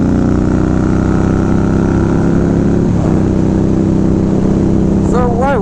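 An Indian Scout Bobber motorcycle engine runs steadily, loud and close with a deep continuous rumble, while a rider talks over it.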